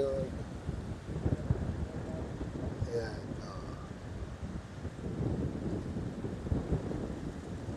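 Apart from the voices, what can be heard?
strong wind and waves at a beach in San Juan, Batangas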